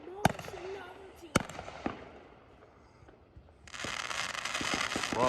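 Fireworks burst in a few sharp, separate bangs, then a dense crackling shower rises and holds at moderate distance, while people chat nearby.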